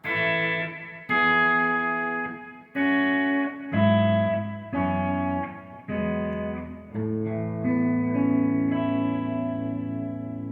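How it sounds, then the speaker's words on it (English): Electric guitar runs through a simulated vintage Echoplex tape delay with a boost and reverb, playing sustained chords and notes that ring into warbly echoing tails, loud and alone. "simulation of an old Echoplex tape delay, and with the boost on it, so it's got a pretty good sound"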